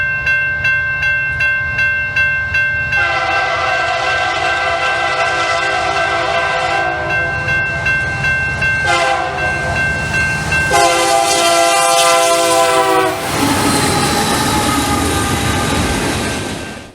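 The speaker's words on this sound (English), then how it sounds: "UP MTTPB makes its way south with our 11th SD70M" A Union Pacific freight train led by an EMD SD70M locomotive passes on the Chester Subdivision in southern Illinois, loud and close, with long blasts of the multi-tone horn over the rumble and clatter of the cars.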